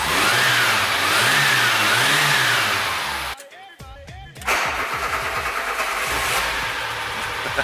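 An old barn-find car engine revs loudly, with a rising and falling drone, then cuts out briefly before rumbling back to a rough, uneven idle; no one speaks.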